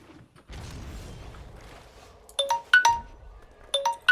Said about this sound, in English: Again, oh, phone calls.